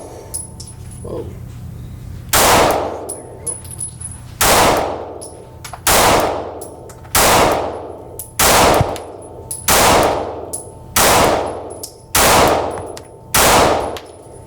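A Sig Sauer P365X Macro pistol fires about nine loud, sharp shots at fairly even intervals, each followed by a brief ringing decay, with quiet gaps between them.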